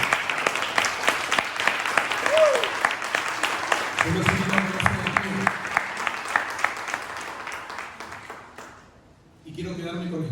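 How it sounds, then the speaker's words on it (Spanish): Church congregation applauding during a Spanish-language sermon, a sustained burst of many hands clapping that fades out near the end before the preacher resumes speaking. "¿Cuántos le dan un aplauso a Dios por esto?"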